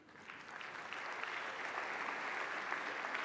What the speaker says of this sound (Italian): Anche per lei l'applauso della sala